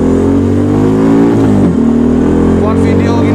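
A classic scrambler motorcycle on a ride carries a loud, close, continuous engine drone with steady throbbing harmonics, the pitch dipping briefly mid-ride before settling back.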